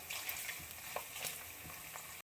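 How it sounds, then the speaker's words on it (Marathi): Paneer sautés in a pan while it turns golden for masala matar paneer. A quiet, even frying hiss carries a few light scrapes and taps of stirring, then cuts off abruptly. "त्याला पण छान परतून घेऊया अजून थोडंसं आपण गोल्डन होऊ देऊया"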